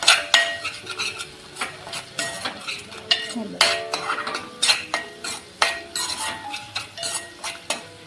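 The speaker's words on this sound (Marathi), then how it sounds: "इथे आपण दोन तीन मिनटे छान असं परतून घेतलेलं आहे" A ground masala paste for a peanut usal is sautéed and stirred in a pan, with a spoon scraping and clinking against the metal in a steady rhythm of close strokes over a faint sizzle.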